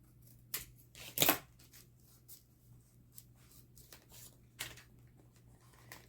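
Scissors snipping through folded paper for a travel-themed junk journal, a few quiet, sparse cuts with one louder crisp snip near the start, close by with no talking.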